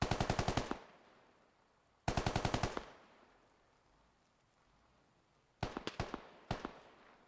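Automatic gunfire in a military shooter game: three rapid bursts of sharp, loud shots, the first two about two seconds apart and the last split into quick clusters, with faint rumble between.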